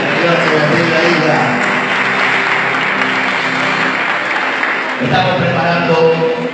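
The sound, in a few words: congregation applause in church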